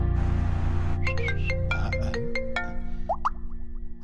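A mobile phone ringtone plays loudly and close by, a bright electronic melody of quick repeated tones over a sustained background hum from a Hindi-dubbed South Indian film scene, with no talking over it.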